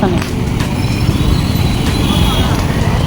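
Busy road traffic on a flooded street with a collapsed divider, a dense continuous rumble of passing cars, buses and trucks close by, with a brief hiss and people talking over it.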